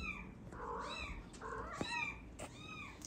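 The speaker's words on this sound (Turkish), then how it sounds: "Her taraftan bir miyavlama sesi geliyor." Kittens and their mother cat meowing: several overlapping, rising-and-falling meows in quick succession, fairly close, over a hissy background.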